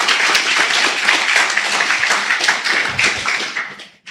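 A church congregation applauds, dense bright clapping that holds steady for several seconds and then fades out, with a few voices mixed in.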